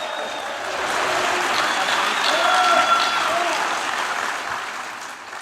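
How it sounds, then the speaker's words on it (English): Sustained audience applause fills a theater after a poetry reading, a dense steady clapping from a crowd that swells slightly mid-way and tapers off near the end. "don't let Melanie Brown step down without one more round of applause."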